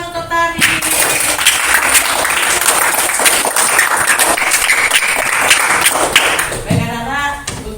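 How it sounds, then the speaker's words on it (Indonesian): Students in a classroom clap for a classmate in a brisk burst of applause that fades toward the end, followed by a few thuds and a voice. "Tepuk tangan untuk Tari."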